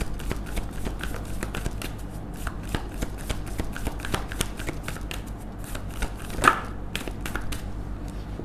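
Tarot cards shuffled and drawn by hand, a steady run of crisp, close papery riffles and flicks with one sharper snap near the end, no talking.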